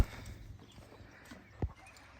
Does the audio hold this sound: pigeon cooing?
no